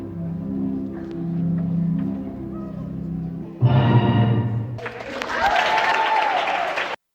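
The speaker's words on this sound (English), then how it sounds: "That was the sound of well-earned applause following a rehearsal for the Desert Nutcracker" Applause breaks out after a Desert Nutcracker dance rehearsal staged by Dance Mojave in the Morongo Basin, a steady wash of many hands. It swells sharply midway, briefly dips, then carries on loud and dense before stopping abruptly.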